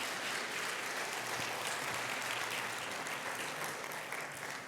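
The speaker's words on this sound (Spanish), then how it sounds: "Denle un aplauso al Señor." A church congregation applauds, a sustained, steady wash of many hands clapping at moderate distance, fading slightly at the end.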